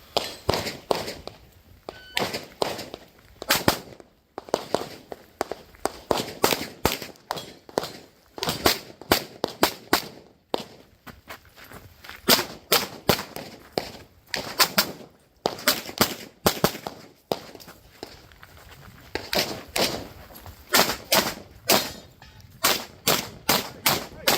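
Rapid strings of gunshots at a Buckeye Blast practical shooting match, a competitor firing in the open division, sharp close cracks in quick bursts with brief pauses throughout, no talking over them.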